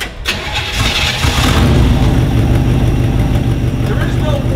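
A 1964 Chevrolet Impala, just out of storage with a manual choke, cranks briefly and then fires up into a loud, steady idle close by.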